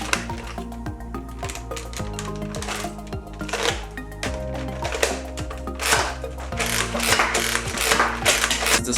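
A Nerf Zombie Strike Scravenger blaster in slamfire mode, its lever pulled back over and over so each priming stroke fires at once, giving a close, steady run of plastic ratcheting clacks and spring snaps.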